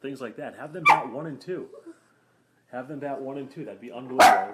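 A pet dog barks sharply twice during a podcast conversation, loud, close bursts cutting across someone talking.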